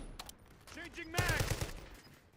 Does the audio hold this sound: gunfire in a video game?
yes